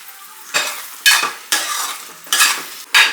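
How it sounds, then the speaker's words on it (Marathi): Paneer lababdar gravy stirred in a hot pan: five loud bursts of scraping and sizzling spoon strokes, each about half a second long, separated by quieter simmering, close up with no voices. "आता आपण यामध्ये ॲड करणार आहोत आपली ग्रेव्ही."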